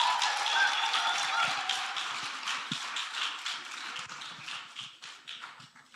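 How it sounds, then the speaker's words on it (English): A church-style gathering at a career day event breaks into joyful clapping, a dense patter of many hands that starts fairly loud and slowly thins and fades over several seconds. "Let's clap and be grateful."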